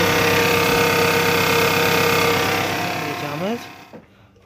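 A Toyota Camry 35 with a 2.4-litre 2AZ engine runs close by with a steady, rhythmic knock in its idle, then winds down and falls quiet near the end.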